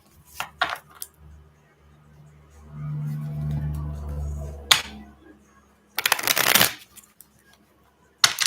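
Cards being shuffled in a few quick riffling bursts, with a softer low hum in the middle and a longer, louder shuffle near the end.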